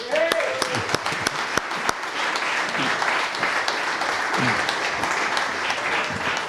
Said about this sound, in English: a big round of applause for Damien Dempsey as well